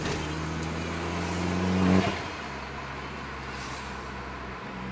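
A tuned Fiat Bravo T-Jet making 260 hp revs hard, its engine note climbing steadily before cutting off sharply, then settling into a lower, steady idle drone, fairly close, with no talking.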